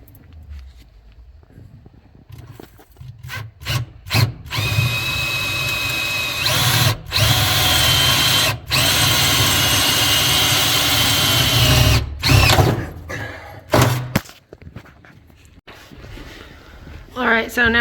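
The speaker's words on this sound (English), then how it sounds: "Mike is now going to be drilling the holes in the trunk. So I believe he's using a 3/8 drill bit." A power drill with a 3/8 bit bores holes into a car trunk, starting with short trigger bursts, then long whining runs broken by brief stops, loud and close, while someone talks between runs.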